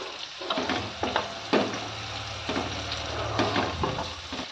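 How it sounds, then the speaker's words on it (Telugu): Onions and spices frying in oil in a pan, a continuous close sizzle broken by several sharp stirring scrapes and clinks of a utensil against the pan, with no talking. "వీటన్నింటిని ఇలా ఆయిల్లో ఫ్రై చేసుకోవడం వల్ల మనకు పచ్చి వాసన అనేది లేకుండా కమ్మటి రుచితో వస్తుంది"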